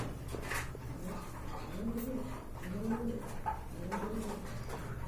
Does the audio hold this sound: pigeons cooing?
yes